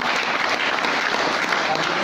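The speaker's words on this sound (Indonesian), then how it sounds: "tepuk tangan buat beliau" Brief applause for Bapak Haji Erwin at a multilevel marketing business event, a loud, continuous patter of many hands that runs unbroken through the whole short moment.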